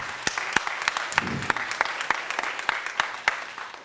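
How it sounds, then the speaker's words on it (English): A graduation ceremony audience for a YouthBuild program claps steadily throughout, dense and fairly loud, with sharper individual claps standing out near the front and a few voices calling out underneath. "I want to give them one more round of applause"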